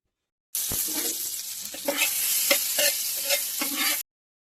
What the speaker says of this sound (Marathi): आता आपण याला बटर मध्ये शेकून घेऊया.